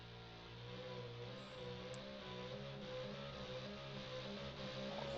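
Rave Limitator racing hydroplane running at the end of a straight during a Valleyfield time trial, its engine a steady, droning roar with a throbbing low rumble that holds at an even, moderate level throughout, no voices.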